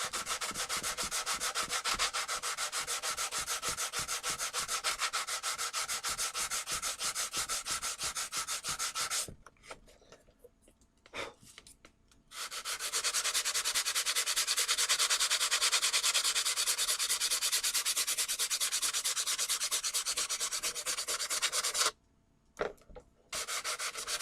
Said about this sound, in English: let's take a little sand block here.